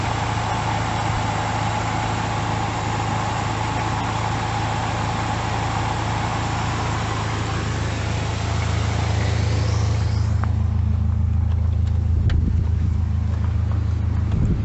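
A car with a failing alternator idles with all its electrical loads switched on, giving a steady, loud, low engine drone throughout, close by and alone, with the hum thinning slightly near the end.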